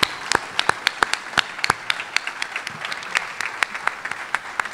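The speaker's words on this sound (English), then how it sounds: "please join me in a round of applause" At a deputy governor awards ceremony, an audience applauds an employee of the month with a burst of scattered, uneven clapping from a modest crowd, moderately loud and close, some claps standing out above the rest.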